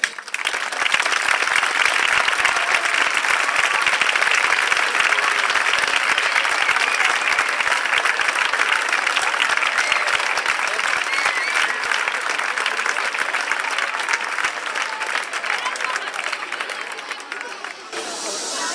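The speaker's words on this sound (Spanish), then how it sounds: "Ellos se merece todo nuestro respeto y todo nuestro aplauso para ellos." A crowd applauds after a dance performance, giving loud, sustained clapping with some cheering and crowd noise for nearly twenty seconds before it starts to thin out at the end.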